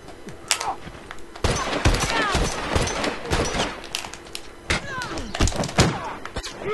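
Gunfire in The Last of Us multiplayer crackles as loud, closely spaced shots and thuds throughout, with a voice talking over parts of it.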